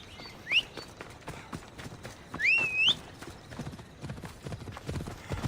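A horse gallops in Assassin's Creed Odyssey, with rapid, close hoofbeats clattering over ground and two high whinnies breaking through the steady rhythm.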